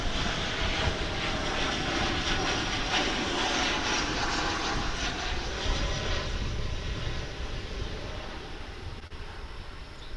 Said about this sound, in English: That would be a 737-800 making its arrival.